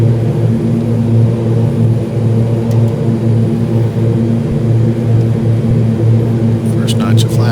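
A propeller airplane engine idling in the Prepar3D flight simulator, a loud steady drone with a constant low hum throughout and no break.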